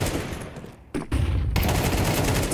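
Rifle gunfire in a professional Counter-Strike tournament match: dense, rapid shots in a loud burst, a brief gap, then sustained fire resuming until the end.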